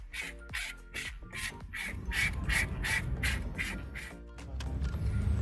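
Sandpaper scrubs the upper part of a car tire before a decal sticker goes on, in steady, repeated back-and-forth rasping strokes that are close and continuous, with a low rumble underneath.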